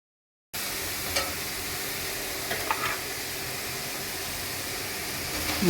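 Spice paste with salt and turmeric sizzles steadily in a pan for a vegetarian taro curry, a constant close hiss with occasional scraping stirs, no talk.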